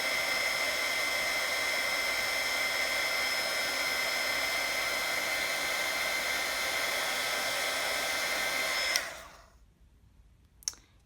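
A heat embossing tool blows hot air in a steady, loud, even whoosh for about nine seconds during a papercraft candy case project, then cuts off abruptly, leaving near silence and a small click.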